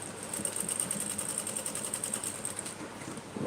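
A sewing machine stitches a pocket in one continuous run, a fast, steady mechanical whir with a high metallic ticking, heard alone and fairly close.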